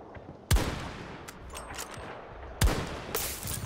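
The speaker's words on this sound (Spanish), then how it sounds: "¡Qué buen disparo!" Sniper rifle shots in the video game Battlefield 2042: two loud, sharp gunshots about two seconds apart, each with a lingering reverberant tail, amid quieter distant battle sounds.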